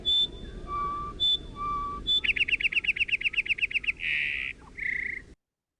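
Song sparrow song slowed to half speed: two high notes each followed by a lower tone, then a rapid pulsing trill, a buzz and a final whir, clear and alone.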